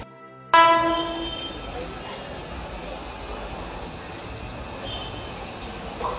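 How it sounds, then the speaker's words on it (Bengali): A train pulls into a station on a route toward Howrah, a loud horn blast at the start giving way to a continuous rumbling roll of carriages that stays fairly steady, with a voice faintly in the background. "আর আমাদের ট্রেন এসে গেছে।"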